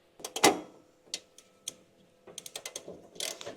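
A nut is tightened onto the tinware of a classic air-cooled VW Beetle, giving a close series of metallic ratchet clicks in uneven bursts, separated by brief pauses.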